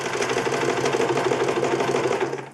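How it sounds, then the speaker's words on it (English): A sewing machine runs a straight stitch while piecing a bag, giving a steady, close, even mechanical whir with a fast regular rhythm. It continues unbroken for a couple of seconds, then winds down at the end. "I'm gonna turn my sewing machine back to a straight stitch."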